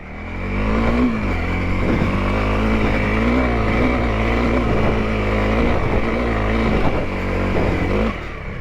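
A Honda CRF 300 L dual-sport motorcycle being ridden, its engine droning steadily and loud with rising and falling revs throughout.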